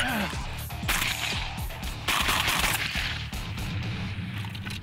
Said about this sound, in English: Flanagan is trying it out with his Mossberg 930 before deciding whether to add it to his show routine